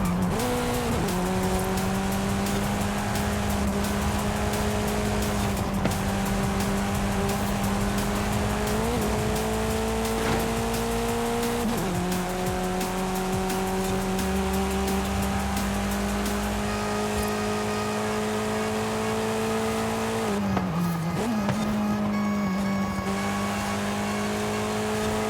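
A Hyundai i30N races in Forza Horizon 5, its engine droning loud and steady with gear shifts that drop and climb the pitch, plus some tire squeal.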